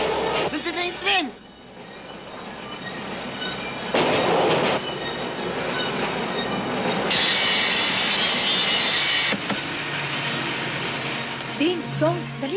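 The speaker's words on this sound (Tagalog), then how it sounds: "Nandiyan na yung tren!" A train arriving, its loud rumble, rail clatter and a high hissing brake squeal building over several seconds, with excited voices shouting over the noise.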